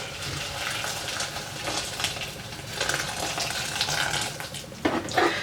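Hot water poured over dried hibiscus flowers to make bissap, a steady close splashing stream lasting several seconds with a couple of louder sloshes near the end.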